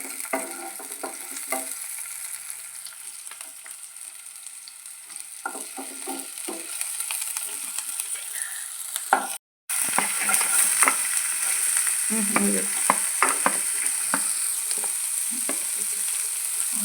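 Onions for veg momos fry in a pan with a steady, close hiss that lasts throughout. Scattered scraping and clicking sounds come through, and there is one brief dropout of sound near the middle. No one speaks.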